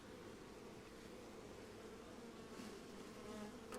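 Honey bees being removed from a chimney drone in a dense, steady buzz, close and continuous with no voices.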